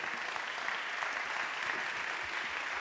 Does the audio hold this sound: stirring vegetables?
no